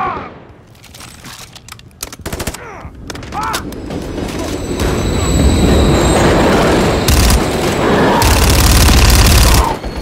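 A train rumbling past in the Call of Duty MW3 (2023) campaign, a rising, heavy roar that builds loud and close over the back half, mixed with bursts of gunfire and brief radio voices early on.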